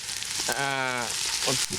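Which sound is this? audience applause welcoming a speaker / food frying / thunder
food frying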